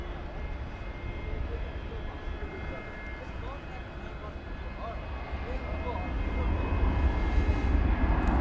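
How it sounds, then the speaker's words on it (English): A Spirit Airlines Airbus A320 gives off a continuous jet engine rumble at an airport, building louder over the last few seconds, with a person speaking over the noise. "It's an Airbus A320."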